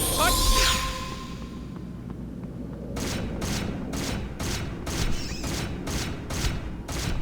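In Hunter: The Reckoning, set in the sewers, a gun fires a steady burst of about nine evenly spaced sharp shots over a rumbling background, preceded by a quieter stretch with a brief swishing effect.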